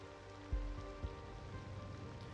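Steady rain falls in the city-building game Cities: Skylines II, a soft continuous patter with a couple of low thumps and faint tonal background music underneath.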